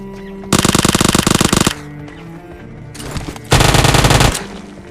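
Automatic gunfire in PUBG Mobile on the Erangel map, heard as two loud, rapid bursts of shots, the first longer and the second shorter after a pause with quieter game sounds in between, and no one talking.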